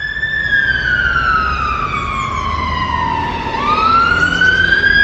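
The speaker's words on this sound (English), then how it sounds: "Fire engine." A fire engine siren wails loud and close, a single long tone sliding down and then sweeping back up, with no other sounds over it.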